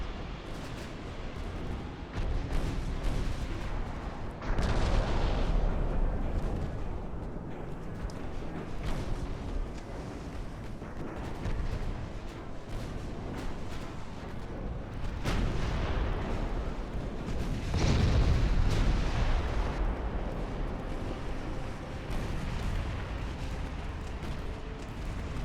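Naval guns fire in Ultimate Admiral: Dreadnoughts, an 1890s warship battle, as a continuous rumbling barrage of heavy booms and bursts, with louder surges around the early and later stretches and no clear talking.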